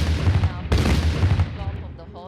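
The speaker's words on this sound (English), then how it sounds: "These made-in-India guns replace the Army's 25-pounder guns from the British era, which have been used so far for the ceremonial gun salute." Made-in-India artillery guns fire a ceremonial salute, heard as a deep booming report with rumbling decay, followed by a second distant thump, with a voice talking over it.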